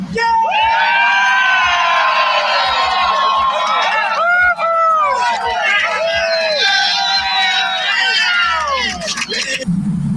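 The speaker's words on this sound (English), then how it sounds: "I want to hear you guys scream at the top of your lungs for Texas" A large crowd at a Texas independence celebration screams, whoops and cheers at full volume, dense and sustained for about ten seconds, with shrill children's shouts and excited voices rising through the roar.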